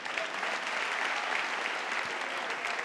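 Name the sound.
applause for a comedian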